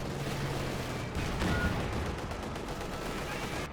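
Artillery fire in the video game Company of Heroes 2, a dense rumbling barrage of booms and crackling gunfire that runs steadily through the whole stretch, with no talk.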